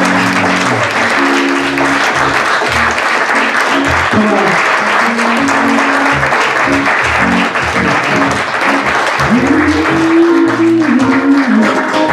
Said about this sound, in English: Somebody clap your hands and give him praise.